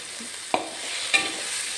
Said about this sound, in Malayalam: ഇത് കുറച്ച് നേരം ഒരു നാലഞ്ച് മിനിറ്റുകൾക്ക് തിരി കുറച്ച് ഇളക്കുക